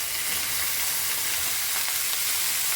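Cabbage and finely chopped potato tossed into a pan of frying shrimp give off a loud, dense, continuous sizzle and crackle close by, with no voices.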